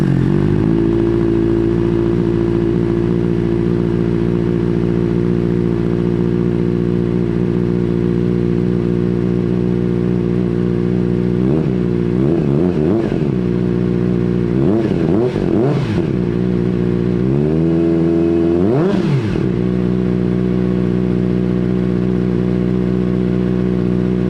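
A Kawasaki ZX-4R fitted with a Graves titanium slip-on exhaust idles with a loud, raspy hum, then gets several sharp throttle blips that rise and fall before one longer rev near the end, heard close up with no talking.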